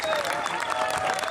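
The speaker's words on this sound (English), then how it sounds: "can I please have a big round of applause for this sister?" Brief burst of crowd applause and cheering at an outdoor rally in San Francisco, a moderately loud wash of clapping with a few whistle-like tones mixed in.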